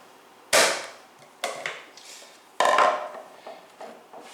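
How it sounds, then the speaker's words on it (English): Plastic lid fitted back onto a food processor bowl holding garlic scape pesto, three sharp snapping clicks spaced about a second apart, close and fairly loud with no talk. "then put the lid back on"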